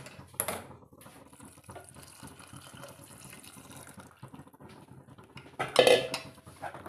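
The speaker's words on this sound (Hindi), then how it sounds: "अब हम क्या करेंगे इसमें दूध डाल देंगे" Milk is poured into roasted sabudana in a pan while making sabudana kheer, a steady liquid splash with a few sharp clinks of utensils against metal, loudest near the end.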